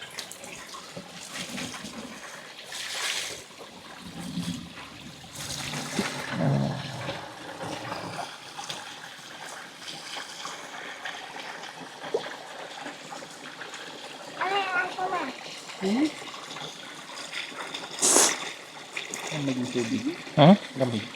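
Water splashes and pours in uneven bursts for hand-washing laundry, with intermittent trickling and sloshing while people talk nearby throughout.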